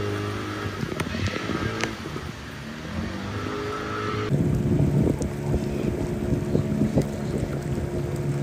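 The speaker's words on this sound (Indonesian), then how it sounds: "Arus sungai kali ini mengalir searah, membuat laju perahu lebih cepat dibanding saat berangkat" A boat travels fast down a river in Papua under strong, cold wind. The motor drones steadily while wind buffets the microphone, and the roar grows louder partway through.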